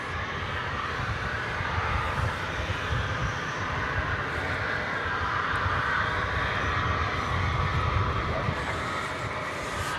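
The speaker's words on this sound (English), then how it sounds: "And we salute this 20th century aircraft. There it goes." Aircraft passing at DFW Airport: a broad, continuous engine roar and rumble held at fairly even loudness throughout, swelling slightly toward the end.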